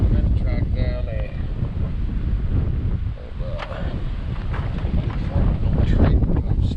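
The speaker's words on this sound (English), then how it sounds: "It is insanely windy." Strong, gusty wind outdoors by Idaho's Salmon River buffets the microphone with a heavy, continuous rumble and roar while people talk nearby.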